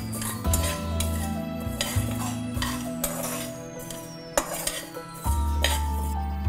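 Moong dal dry-roasting in a pan while being stirred, heard as close, repeated scraping and clinking strokes of a utensil against metal, with a low hum under them and no voices.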